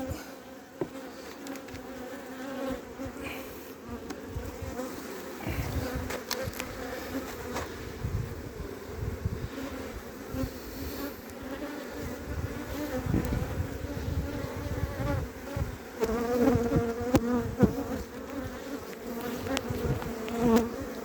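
A swarm of honeybees buzzes close by around a hive box in a continuous, wavering drone that swells louder toward the end, with no talking.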